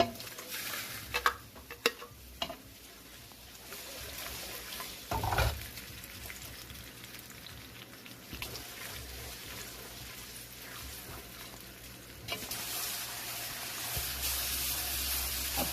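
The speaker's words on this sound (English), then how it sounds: "I'm toasting my onion and the blended onion and the ukpe" Onion, blended ukpe and scent leaf toast in a pot for egusi soup, giving a faint, soft sizzling hiss with scattered scrapes and clicks of stirring that grows a little louder near the end.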